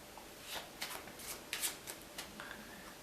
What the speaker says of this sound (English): you do an overhand shuffle